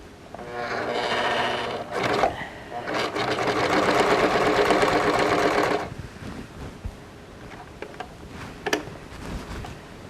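A sewing machine stitches a princess-seamed western show jacket in two loud bursts of steady mechanical whirring, the longer running about three seconds, followed by quieter handling clicks.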